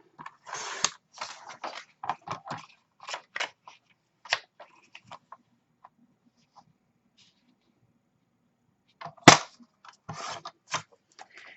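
Paper being trimmed for a Charmed mini album: scattered sharp snips and cutting clicks, close and crisp, with quiet gaps and one louder snap near the end.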